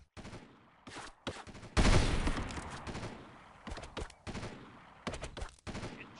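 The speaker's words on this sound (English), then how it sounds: "you're shooting at me" Gunfire in the military shooter game Delta Force 2, several bursts of automatic fire broken by short pauses, one long heavy volley early on followed by quicker clipped rattles, loud and close.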